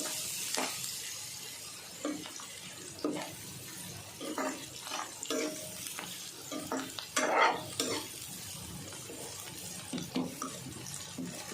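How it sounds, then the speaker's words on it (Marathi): Potatoes are stirred into a spice masala frying in a pan, with scraping spoon strokes at uneven intervals over a soft sizzle, close and fairly quiet. "आता याच्यामध्ये बटाटे टाकून घेते"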